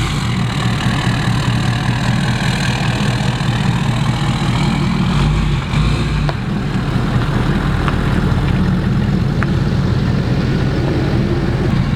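A Ford 6.7 Powerstroke diesel truck with a 5-inch exhaust idles close by, a loud, steady low rumble with a deep throb that holds for the whole stretch without any talk.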